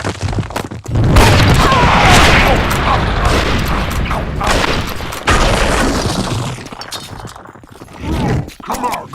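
Gunfire in the Western video game Red Dead Revolver, a loud, dense barrage of booming shots and blasts that runs almost continuously and fades briefly near the end, with no talk over it.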